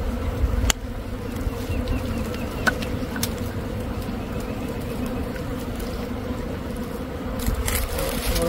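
A honey bee swarm in a tree gives a continuous low droning buzz that stays steady throughout, with a few faint clicks and rustles on top.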